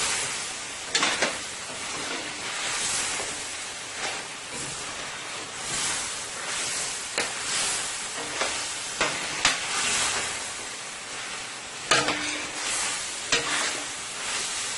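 Chicken wings stir-frying with carrots and string beans in a hot pan: a steady, hissing sizzle with scattered clinks and scraping stirs throughout, close and moderately loud, with no talking.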